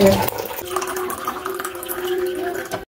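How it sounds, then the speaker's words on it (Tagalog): Hot water pours steadily into a container with a continuous splashing, gurgling rush, close and fairly loud. "Lagyan natin ng mainit na tubig"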